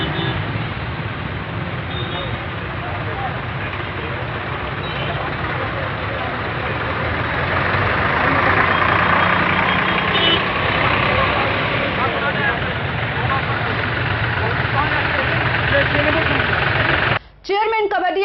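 Tractors in a farmers' tractor rally organised by Congress, a continuous broad engine rumble and roadway noise filling the whole stretch, with chatter from the crowd mixed in and a brief cut near the end.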